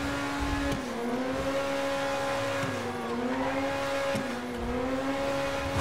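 A high-revving vehicle engine in the GTA 5 video game holds a loud, steady whine at top speed, its pitch dipping and climbing slightly in several waves without letting up.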